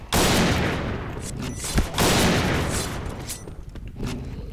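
Shooter video game gunfire on a bomb-planting map. Loud, dense bursts of rapid shots fill the whole stretch, with a sharp crack near the middle and a few lighter shots toward the end.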